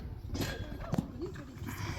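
Horse hooves thud in a rhythmic canter on an arena surface during a show jumping lesson, heard at moderate distance under an instructor's voice.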